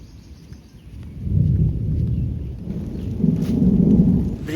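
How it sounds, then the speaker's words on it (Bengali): Loud rolling thunder rumbles through a light rain shower, swelling and staying deep and sustained, with soft rain patter underneath and no voices. "বৃষ্টি হচ্ছে একদম সামান্য পরিমাণে, তবে মেঘ ডাকছে প্রচণ্ড পরিমাণে"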